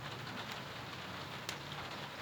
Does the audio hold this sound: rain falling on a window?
yes